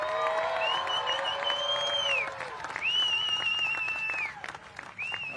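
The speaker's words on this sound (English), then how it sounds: "Big round of applause for our He-Man sponsor." An awards-ceremony audience at the 2024 Eddie Aikau Big Wave Invitational claps and cheers, with whoops and whistles rising over steady applause; a voice comes through faintly now and then.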